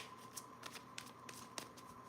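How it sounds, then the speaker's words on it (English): Tarot cards are shuffled quietly and repeatedly, soft riffling flicks in an uneven rhythm with a faint steady hum underneath. "I'm going to shuffle with your energy while I wait for you to answer."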